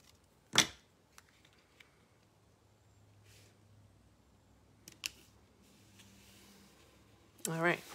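Scissors trimming a piece of paper for a handmade card, giving a few sharp close snips spaced apart, with a brief rustle of paper near the end.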